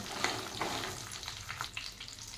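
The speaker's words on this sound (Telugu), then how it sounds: "కలుపుకోవాలండి మంచిగా ఫ్రై చేసుకోవాలి" Green chillies and tempering seeds crackle in hot oil for a home-style chutney, a continuous close sizzle broken by brisk stirring and scraping sounds.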